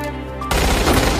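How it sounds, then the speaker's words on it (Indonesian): Gunfire breaks out in a shootout between Hiroji and American soldiers, a sudden loud dense burst of shots that cuts in over a sustained tonal background and keeps going to the end. "Terjadi baku tembak antara Hiroji dan pasukan Amerika."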